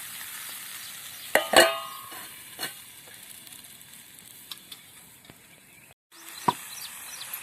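Cluster beans (guar) frying dry in a pan, stirred now and then: a steady soft sizzle with a few sharp scraping knocks near the start and a brief gap, no talking.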